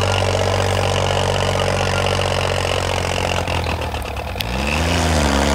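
A tractor engine runs steadily at a night-time tractor competition, a loud low idle with a heavy rumbling drone that briefly dips then shifts pitch near the end, with no voices.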